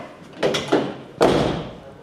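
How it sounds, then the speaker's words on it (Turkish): A BMW E30 car door is handled and shut, giving a few solid thumps, with two lighter knocks before one heavier closing thud, close by and without talk. "Bak kapı sesi."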